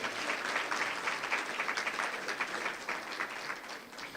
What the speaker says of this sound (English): please give a round of applause for Professor Maybeck